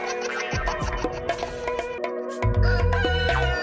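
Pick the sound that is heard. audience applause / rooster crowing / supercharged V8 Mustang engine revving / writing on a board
rooster crowing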